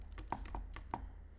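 Keys tapped on a computer keyboard while entering income figures into a budget spreadsheet, a handful of separate clicks at an uneven pace, close and fairly quiet, with no talk.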